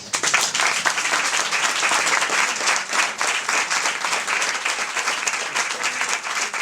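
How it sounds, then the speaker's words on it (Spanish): Audience applause at an afternoon talk, a thick continuous burst of clapping filling the room from start to end. "voy a pedir un aplauso muy grande simplemente por haber querido compartir esta tarde"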